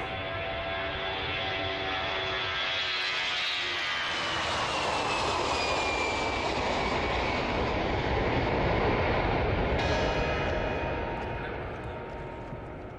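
Airliner jet engines roar steadily for a long stretch, with a rising whine and broadband rumble building and holding loud before easing off toward the end, no talk over it.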